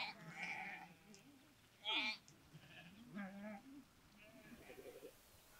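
Faint bleats from a village sheep flock sound several times at a distance, with quiet voices murmuring nearby.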